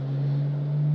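Porsche 992.2 Carrera fitted with a Soul exhaust, cruising on a cool-down lap at the track, its engine a steady, low, even drone for a brief moment with no talking.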